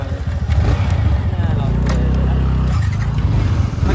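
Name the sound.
vehicle engine starting and running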